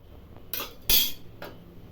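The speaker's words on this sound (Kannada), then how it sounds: "ಕುಕ್ಕರ್ ಮುಚ್ಚಳ ಮುಚ್ಚಿ" A few metallic clanks of a pressure cooker lid being set and pressed shut, three quick hits, the middle one loudest.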